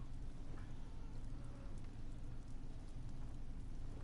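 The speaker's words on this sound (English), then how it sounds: "Is it rain? Yeah, it's raining." Steady rain in the fantasy role-playing game Elder Scrolls Online, a continuous dense hiss of falling drops with no clear breaks, moderately loud and playing alone without any voices.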